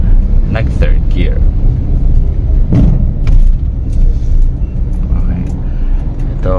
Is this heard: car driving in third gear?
yes